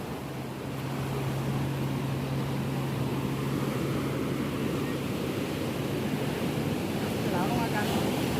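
Big ocean waves at Carita beach give a steady, broad roar of surf under wind, continuous and fairly distant, with faint voices in the background.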